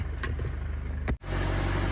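A Mercedes engine held at a steady high idle by a tool on the accelerator, droning evenly, with a brief dip near the end before the hum resumes.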